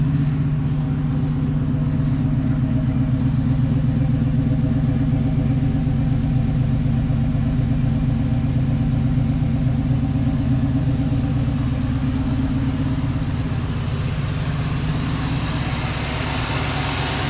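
An Oldsmobile Cutlass 442 engine runs steadily at a constant low rumble, close by and continuous, with no voices.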